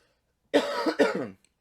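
One person coughs close to the microphone in a short double burst after a moment of silence, then the room goes quiet again.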